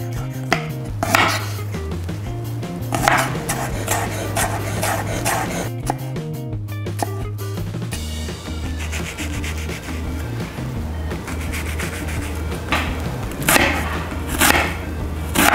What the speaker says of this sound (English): First thing we're going to do is to cut the garlic. So just smash it down.